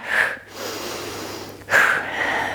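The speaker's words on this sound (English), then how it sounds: "So we're deeply breathing, using that diaphragmatic breath." Deep diaphragmatic breathing during a posture and glute exercise: two loud, close, airy breaths, each a sharp intake that flows into a sustained exhale, with no talk over them.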